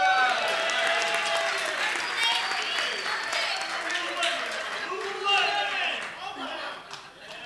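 A crowd at a New Year's celebration claps steadily for the performers, with the sound holding and then tapering off near the end. A voice carries over the clapping throughout.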